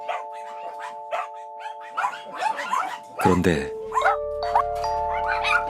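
Several dogs bark over and over in a dark greenhouse puppy mill, in short, sharp bursts that overlap one another. A steady electronic hum runs underneath, and a narrator speaks over part of it.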